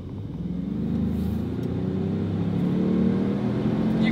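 A 2021 GMC Yukon Denali SUV engine accelerates under load, a steady mid-pitched drone that gradually climbs and strains, heard from inside the cabin with no talking.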